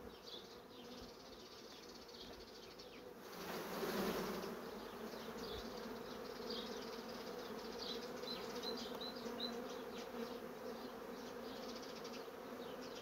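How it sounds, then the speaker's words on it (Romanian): A steady hum of many honey bees from a colony in swarming fever buzzing close by, continuous throughout with a brief louder swell partway through. "E multă albina"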